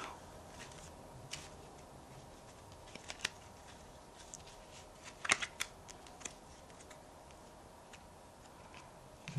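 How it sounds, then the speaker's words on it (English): A deck of playing cards is shuffled by a magician, producing faint, close riffling with scattered light clicks and ticks against a quiet background. "I will randomly shuffle the deck."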